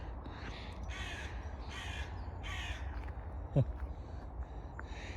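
A crow caws several times outdoors at a garden allotment, harsh repeated calls spaced across the clip over low background rumble, with one sharp knock partway through.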